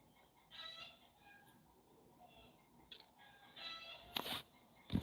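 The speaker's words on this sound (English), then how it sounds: "There goes my chickens again." Backyard chickens squawking and clucking in short, faint bursts from some distance, with a few sharper cries near the end over a quiet room.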